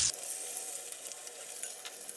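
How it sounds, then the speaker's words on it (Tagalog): Flour-coated pork belly fries in a pan with a continuous crackling sizzle, loud and close, steady from start to finish with no voices. "Kasi nilalagay natin sa harina muna bago i-prito. Ayan yung piniprito natin."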